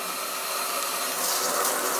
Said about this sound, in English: this water pressure goes up until my ceiling